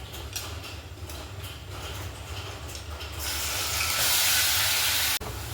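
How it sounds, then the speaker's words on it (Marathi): Chopped onion frying in oil for pav bhaji, a steady sizzle and hiss that swells louder and brighter partway through, with faint clinks and scraping over it and no talk. "सो हा तेलात चांगला भाजू द्यायचा कांदा"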